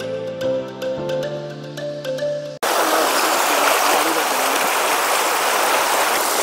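A strong, deep stream flows near Penchalakona waterfalls, heard up close as a loud, continuous rushing roar that follows a short stretch of music, with no voices over the water.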